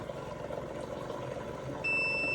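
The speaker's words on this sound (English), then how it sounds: "press and hold our on button till we hear a beep" A single steady electronic beep from a Direct Pro 800 water filter system powering on switches on near the end and holds, over a quiet background hum.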